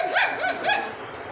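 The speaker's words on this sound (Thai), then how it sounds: "อย่าเห่า" A dog gives a few quick, high yipping barks close by, rising and falling in pitch within about a second, with no talking.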